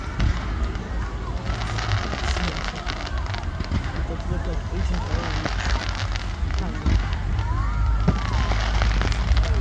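Fireworks on Bonfire Night, a dense outdoor barrage of crackles and pops over a loud, continuous rumble, with people talking throughout the noisy crowd.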